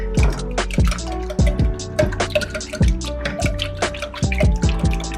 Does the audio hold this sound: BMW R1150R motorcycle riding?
no